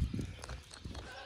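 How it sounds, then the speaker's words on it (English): Goats bleating in short, irregular calls, fairly close, mixed with low rumbling movement and light outdoor noise, as a herd returns from the mountains in Pakistan. "Few other goats coming back from the mountains."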